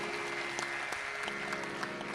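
Faint, thin clapping from an audience at a Hindi Ramayan song and story recital, distant and low with a few sharper claps standing out over a steady hum.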